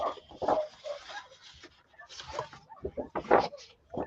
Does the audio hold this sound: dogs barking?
yes